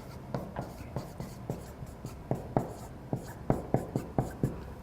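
A pencil sketches a graph on paper in a steady run of quick scratchy strokes, some dozen short taps and drags, close and fairly faint with a little room hum beneath.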